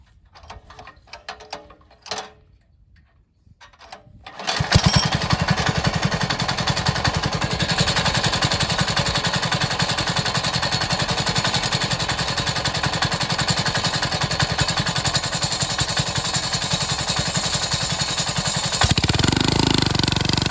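A 196cc engine driving a torque converter with factory driver springs starts up after a few quiet clunks and ratchety pulls, then runs loud and rattly with a rapid mechanical clatter, briefly rising near the end.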